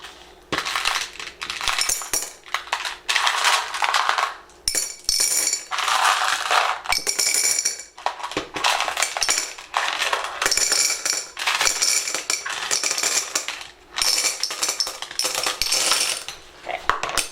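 Glass baubles, blue and pink, tumble into a glass flower vase in loud continuous bursts of clinking and rattling, with short pauses between pours and no talking.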